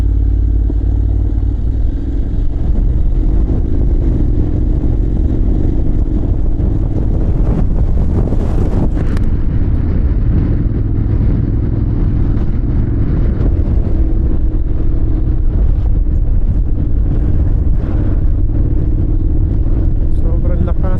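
Strong wind roars over the microphone during a Honda X-ADV group motorcycle ride through mountain roads, a loud continuous buffeting rush under a steady engine drone, with a rider talking over it.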